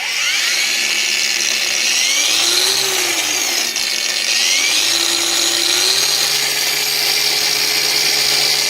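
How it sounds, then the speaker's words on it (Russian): Heimerdinger LB184 cordless angle grinder running at third speed while grinding, a loud, steady high-pitched whine with slight pitch dips as the disc loads under light pressure, sustained without a break. "Болгарка пилит, в принципе, отлично."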